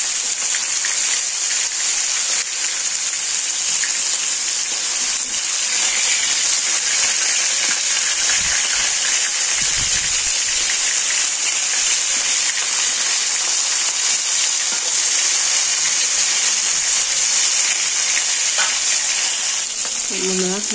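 Fish fries in hot oil in a pan, making a dense, continuous sizzle and crackle up close that persists for the full stretch, with occasional soft stirring or shifting sounds beneath it.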